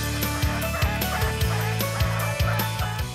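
An American Silky chicken and other fowl call in repeated honking, nasal clucks about twice a second, close and fairly loud over a busy background hum.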